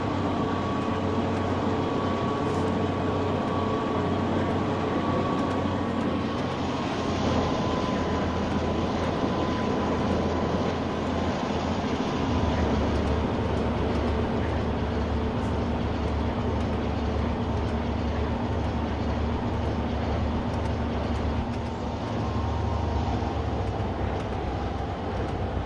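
Subway train of the Bayport El Network with Siemens GTO propulsion, heard on board while running in snow: a steady loud rumble with a tonal whine that shifts pitch midway, continuous throughout with no talk.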